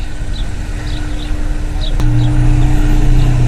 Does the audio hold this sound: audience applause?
no